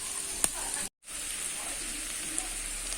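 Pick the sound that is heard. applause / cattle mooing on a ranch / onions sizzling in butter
onions sizzling in butter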